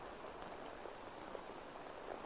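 Rain falls steadily in Assassin's Creed Valhalla as a soft, even hiss with faint scattered patter, quiet and continuous throughout.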